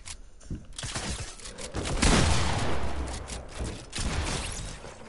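Gunfire in Fortnite: dense, rapid bursts of shots crackle nearly nonstop, with booming impacts and mechanical clatter mixed in, loud and close throughout.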